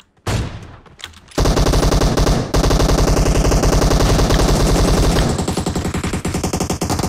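Loud, sustained automatic gunfire from the battle royale game PUBG rattles in rapid, continuous bursts after a brief opening shot, with only short pauses between volleys.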